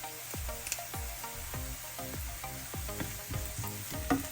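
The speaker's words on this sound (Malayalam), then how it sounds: "ഞാൻ എടുത്ത് വെച്ചിരിക്കുന്ന കറിവേപ്പിലയും കൂടെ ഊരിയിടുവാണ്" Sliced onions and curry leaves sauté in a pan for Kerala egg curry, with a continuous sizzle and a steady rhythm of ringing spoon scrapes against the pan, up close and without talk.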